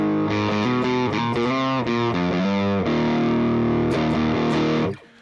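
Heavily distorted electric guitar through a distorted amp preset chugs and rings out chords up close, loud and continuous before cutting off at the end.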